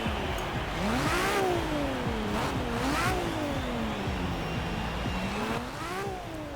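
In the Forza Horizon 3 video game, a wide-body Nissan Fairlady Z drift build revs repeatedly, its engine note sweeping up and down in several loud, sharp climbs and falls.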